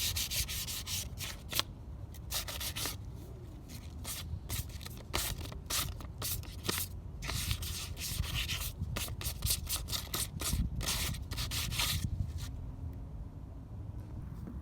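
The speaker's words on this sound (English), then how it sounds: "Just give everything a nice scuff." Hand scuffing of Ruger 10/22 rifle parts before painting: repeated close rubbing and sanding strokes in an irregular rhythm, with brief pauses between strokes, fairly quiet and with no voices.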